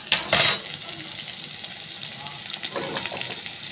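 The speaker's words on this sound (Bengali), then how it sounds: "ভাজা হয়ে গেলে পেঁয়াজগুলো তুলে নেব" Onions frying in a pan for mutton biryani, a soft steady sizzle with a brief louder clatter of stirring at the start and another faint scrape later.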